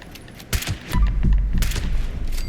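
Gunfire in the video game Fallout 76, a burst of shots and booming impacts over a steady low rumble, with rapid repeated bangs dense and loud throughout.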